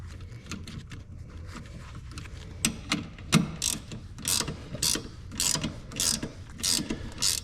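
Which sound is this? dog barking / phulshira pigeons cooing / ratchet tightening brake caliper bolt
ratchet tightening brake caliper bolt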